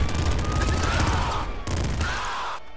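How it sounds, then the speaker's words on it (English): Rapid, dense automatic gunfire from a quadruple machine gun in the video game Nuclear Throne, a loud continuous crackling burst with a brief gap partway through, no voices. "Quadruple machine gun is pretty cool"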